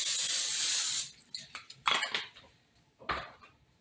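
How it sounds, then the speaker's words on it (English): Cooking spray hisses loudly in one sustained burst of about a second into a pan for turkey pita burgers, followed by a few light clinks and taps of cookware. "A little bit of pan spray."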